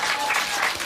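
Studio audience applause at a live Korean political talk show, a dense burst of clapping filling the whole short moment with no voices over it.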